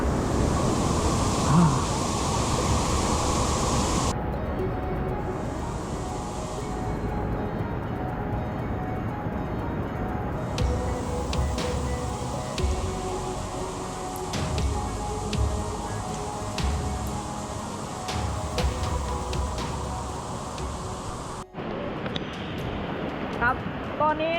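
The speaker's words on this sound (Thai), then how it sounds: "มาถึงแล้วนะครับน้ำตก" The Pitugro (Tee Lor Su) waterfall roars in a broad, constant rush mixed with heavy rain, loud and unbroken throughout, with someone talking over it at times.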